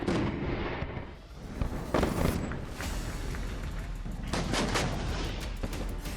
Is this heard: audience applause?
no